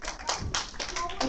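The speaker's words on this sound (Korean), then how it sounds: "네, 박수!" Children at a creation science class clap on cue, a short run of distinct, fairly close hand claps in an uneven rhythm, with talk mixed in.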